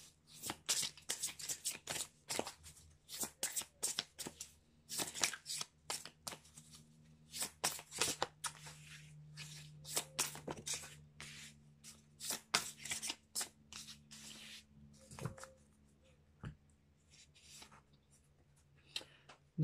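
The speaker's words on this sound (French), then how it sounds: "je vais prendre des cartes dans l'oracle du Cantique." Oracle cards shuffled by hand in a series of quick, crisp riffling bursts with short pauses between them, close and fairly loud, with a low steady hum running underneath and no voices.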